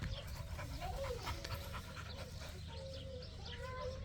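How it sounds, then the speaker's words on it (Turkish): A puppy pants rapidly and steadily close by, its quick breaths continuing throughout over a low background hum. "Yavru bir köpek."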